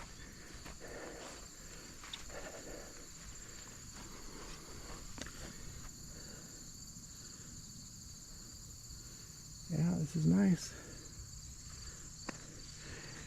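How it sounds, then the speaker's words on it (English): Crickets and other insects chirp steadily in a rainy Iowa park near pine trees and a valley view, a faint continuous drone under brief footsteps, with a short spoken remark and a louder rustle near the end. "I do hear like crickets and some other bugs."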